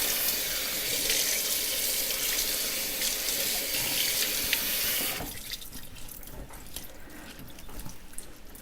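Rice rinsed under a running kitchen tap, with a steady close rush of water splashing into a bowl for about five seconds, then lighter trickling, dripping and swirling as the flow eases.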